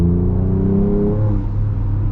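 A V6 engine in a mid-size pickup truck accelerates with a loud, steady rising growl and a faint turbo whir, close and continuous for about two seconds without speech.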